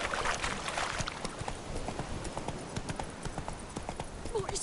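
Horse hooves clip-clopping steadily in the video game The Witcher 3, a brisk, moderately close rhythmic trot on hard ground, with a voice speaking briefly over it.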